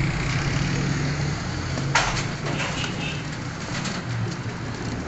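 Pigeons coo softly and repeatedly at a loft of young racing birds in Faisalabad, low hooting calls over a steady noisy background, with a brief flutter midway.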